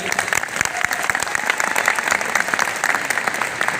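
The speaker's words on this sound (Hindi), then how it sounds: "सबसे पहले तो मैडम की एक बार जोरदार ताली हो जाए" Audience applause after a talk at a work-from-home business meeting, a steady dense wash of many hands clapping, fairly close and continuous throughout with no voices standing out.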